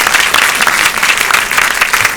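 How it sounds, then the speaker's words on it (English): A live audience at a quiz show event claps loudly and continuously, a dense, even wash of applause from many hands close by, with no voices over it. "Don't be misled by that applause."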